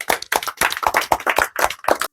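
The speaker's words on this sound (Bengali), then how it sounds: "এবার আমরা তুলে দেবো সান্ত্বনা পুরস্কার একটা জোরে করে হাততালি হবে" An audience at a balloon-bursting contest applauds a prize being handed out. About nine crisp, close claps sound in a quick, slightly uneven rhythm, then stop abruptly.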